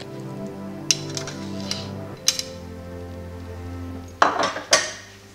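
Crushed ingredients for an okra stew go into a cooking pot, giving a few sharp metallic clinks and scrapes of utensil against pot, close, over a quiet steady hum with no talking.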